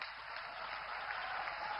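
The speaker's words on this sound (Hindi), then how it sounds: "तालियां जोरदार हो" A crowd applauds for the Prime Minister at a rail-service flag-off ceremony in Jharkhand, with continuous, even clapping that sounds somewhat distant and muffled and holds steady throughout.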